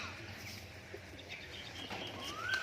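Pigeons kept for kabutarbazi in Murshidabad coo faintly against a steady outdoor background hiss, with a soft wing flutter and a brief bright whistle-like note near the end, and no talking.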